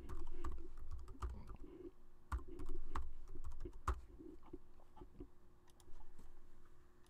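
Quiet, uneven keyboard clicking as a new password is typed on a computer keyboard, bursts of keystrokes with short pauses, close and soft, with no talking.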